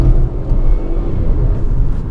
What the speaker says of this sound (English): so I put it in manual mode, foot on the brake,